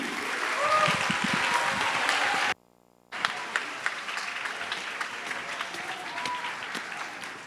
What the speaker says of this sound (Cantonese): 俾掌聲嘅兩位學生司儀